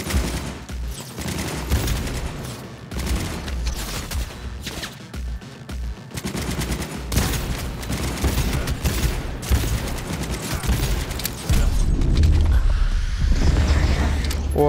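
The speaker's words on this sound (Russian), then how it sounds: "будем с этой пушки стрелять" Gunfire from a gun in the video game Cyberpunk 2077 rings out as rapid, dense bursts of shots mixed with mechanical clanks, loud and continuous over about fifteen seconds, with no speech.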